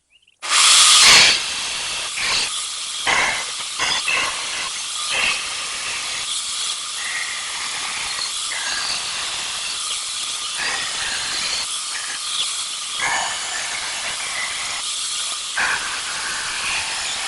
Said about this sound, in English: It's not a fresh belt, but I'm just profiling, and we'll go from there. This is on the Dictator grinder.